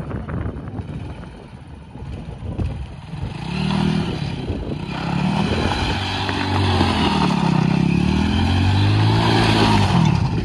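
A motorcycle engine revving hard and accelerating nearby, loud and continuous, its pitch rising and falling through several surges over about ten seconds, with no talk over it.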